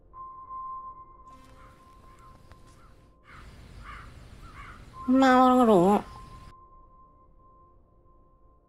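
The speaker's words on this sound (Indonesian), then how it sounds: "Tidak lama dari itu, Sumirah mendengar suara burung gagak." A single loud, harsh crow caw stands out after a stretch of soft murmuring, with a faint steady tone humming in the background.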